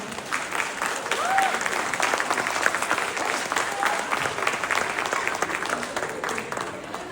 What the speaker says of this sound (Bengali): ছোট ভাই বোনেদের এই অসাধারণ পরিবেশনার জন্য আরেকবার খুব বড় করে হাততালি হয়ে যাক।